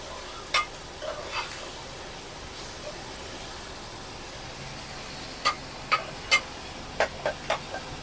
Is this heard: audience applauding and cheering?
no